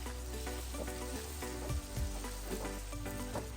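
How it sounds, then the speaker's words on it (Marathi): Ginger-garlic paste fries with minced mutton for green kheema, giving a steady dense sizzle, loud and close, with faint stirring scrapes and clinks on top. "तर अद्रक लसूण चांगली फ्राय झाली आहे"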